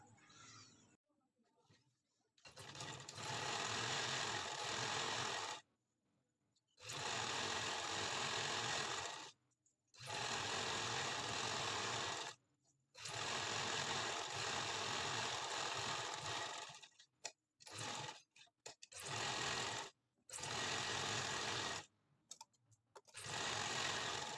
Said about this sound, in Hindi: अब इसके ऊपर रख के तो हमने एक सिलाई लगा देनी है